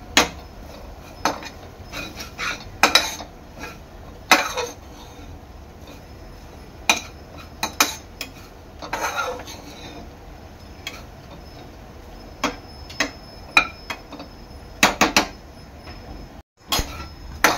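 Grated coconut being dry-roasted and stirred in a pan gives irregular clinks and scrapes of a spoon against metal. The bursts are scattered and moderately close, with a soft background underneath and no talk.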